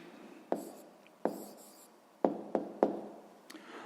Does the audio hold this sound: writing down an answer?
yes